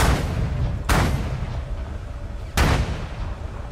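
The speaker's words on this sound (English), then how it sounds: "well, let's try the gun first." Gunshots ring out from a gun in the tutorial of the video game Culling, two loud sharp blasts about a second and a half apart, each with a booming decay, and no talk.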